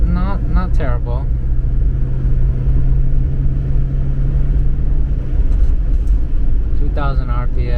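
A restored Mercedes-Benz 280SEL 3.5 V8 accelerates at full throttle and kicks down, a loud, steady interior engine drone with a low rumble, while someone talks over it at the start and end.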